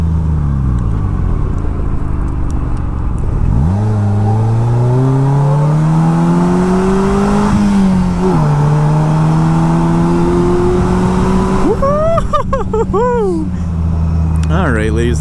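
Polaris Slingshot three-wheeler driven on the Richard B. Russell Scenic Highway, a mountain road: loud engine revving that climbs steadily in pitch, drops back, then surges again through gear changes, with heavy wind rush throughout.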